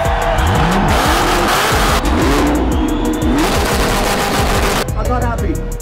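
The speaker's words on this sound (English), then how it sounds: "Everybody watch out, hide your kids, got a Mustang!" Ford Mustang accelerates hard at a cars and coffee meet, engine roaring loud and close with rising revs and popping exhaust crackles alongside tire squeal, while people talk under the noise.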